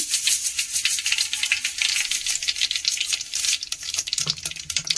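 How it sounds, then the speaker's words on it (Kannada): Mustard seeds crackle and sizzle in hot oil in a pan while bendekayi huli (okra curry) is cooked: a steady, bright spitting hiss with popping bursts, close and fairly loud, with no talking. "ಈಗ ಸಾಸಿವೆ ಹಾಕೊಳ್ಳೋಣ"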